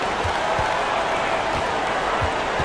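An arena crowd in an NBA 2K basketball game roars in a steady, broad wash of cheering and applause, constant and fairly loud, with a few faint low thumps beneath.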